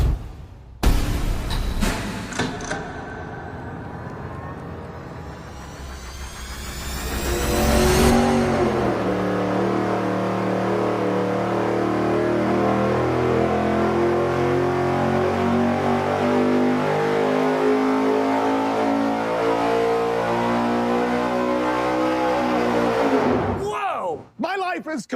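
An engine fitted with dual quad carburetors on a tunnel ram, about 2,000 CFM, runs on a dyno: a roaring rev climbs sharply, then holds a loud, steady high-rpm howl before cutting off, with talk heard.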